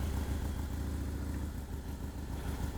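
A Harley-Davidson Dyna Low Rider S V-twin idles nearby with a low, loping rumble and a steady uneven beat, slightly clattery, with no speech.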